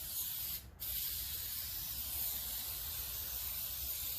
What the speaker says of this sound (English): So just try to spray it and keep it nice and even.